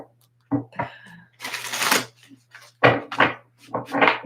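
Poe Tarot cards are shuffled in several quick, crisp riffling bursts separated by short pauses, with a low steady hum underneath.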